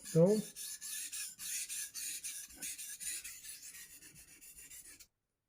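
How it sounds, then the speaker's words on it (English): Old Hickory Ontario hunting knife belly being sharpened, a close series of rhythmic rasping strokes, about a dozen passes that grow slightly fainter before stopping abruptly. "For this one, I have to kind of dance to get the belly sharpened."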